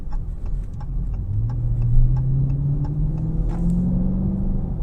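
A 2022 Dodge Challenger R/T Scat Pack with its 485 hp 6.4-litre V8, throttle fed out of a corner, its engine note rising in pitch under a steady road rumble, heard close from inside the car.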